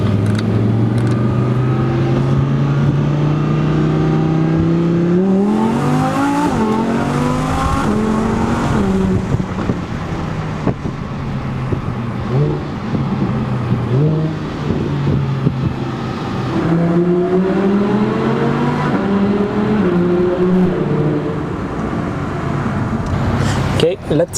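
An Audi R8 V10 Plus with a turbo build accelerates hard through its dual-clutch gearbox, engine note climbing in repeated rising sweeps broken by quick shifts, loud and close, with a person talking over it at times.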